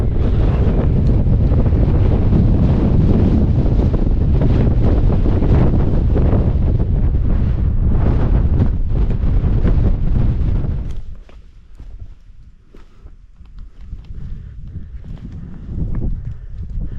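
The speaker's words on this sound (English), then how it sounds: "it's really windy" Strong wind on the Stiperstones summit in Shropshire, England roars and buffets the microphone loudly for most of the time, then eases into quieter, intermittent gusts near the end.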